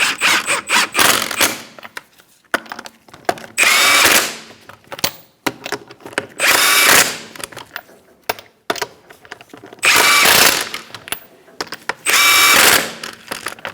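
A power tool tightens the wheel lug nuts on a 2004-2009 Mazda 3 in loud, close bursts of a few seconds each, repeated four times with clicks and handling noises between them.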